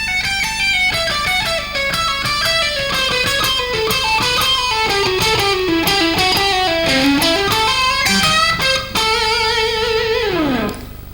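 A guitarist plays a self-devised scale pattern on electric guitar, a fast continuous run of picked notes climbing and descending for about eleven seconds, closing with a held note that bends down; close and unaccompanied.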